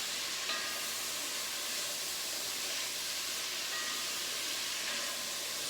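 Peppers sizzle in a pot for beef chili, giving a steady, even hiss of frying that carries on without pause at moderate volume, with no voice.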